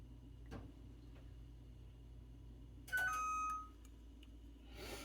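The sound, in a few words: stove timer alarm signalling pancake batter ready for oven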